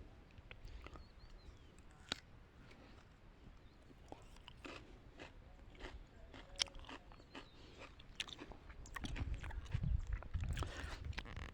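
Someone bites into and chews an unfamiliar new fruit from a tree in Italy, close up: repeated crisp crunching and chewing bites, faint and scattered over quiet outdoor background.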